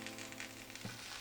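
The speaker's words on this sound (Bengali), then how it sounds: "আমি ব্রেডটাকে একই প্যানের উপরে দিয়ে দিই, যেখানে এখানে একটু হালকা তেল দেওয়া আছে" Bread slices warming in a lightly oiled pan give a soft, steady sizzle, quiet and close, with no voices over it.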